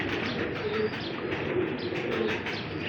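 Pigeons coo in a loft of show birds, soft throaty rolling calls repeating over a busy, fairly loud background of more cooing and faint chirps.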